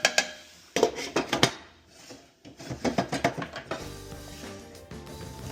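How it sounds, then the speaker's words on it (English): Chicken meatballs tossed in a pot, then the lid set back on, giving clustered metallic clanks and rattles in quick bursts, a short pause, then more clattering before a softer steady cooking hiss. "I'm just going to give this another toss, put the lid back on"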